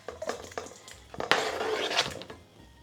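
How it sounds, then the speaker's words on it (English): Finely chopped tomatoes are scraped and moved into a bowl with clattering knocks of utensil and dish, a few sharp taps followed by a longer scraping rattle. "I'll pick them up and I'll transfer them into a bowl"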